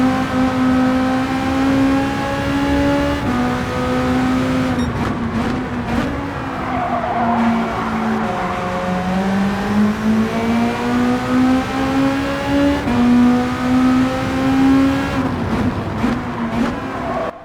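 Porsche race cars in Gran Turismo 7 at the Catalunya circuit, a loud continuous engine drone that rises and falls as the cars shift gears through corners, with brief tyre noise.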